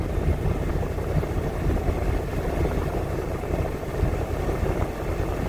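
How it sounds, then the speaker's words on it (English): Steady, loud rushing blower noise from a Subaru FR-S car heater on full blast, with a low engine rumble underneath, continuous and unchanging throughout, no voices. "I got the heater running full blast, so sorry for the wind noise."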